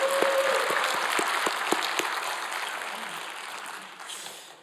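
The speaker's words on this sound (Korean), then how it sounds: "우리 다시 한번 하나님께 영광의 박수 드립니다." A church congregation at a Korean worship service claps together in praise, the applause starting full and gradually fading over several seconds, with a few sharp individual claps standing out early on.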